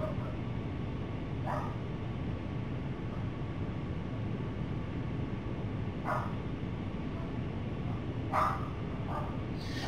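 Dogs bark a few times in an aircraft cargo hold, muffled and distant, over a constant loud low engine drone.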